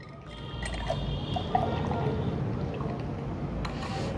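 Water is poured steadily into a shaker holding Universal Ultra Whey Pro protein powder, making a continuous close splashing and filling sound for about four seconds with no talking.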